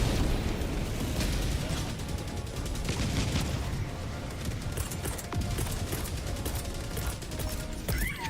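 A called-in barrage in World of Warcraft sets off a dense run of rapid explosions and crackling bursts that continue for several seconds at a steady, loud level.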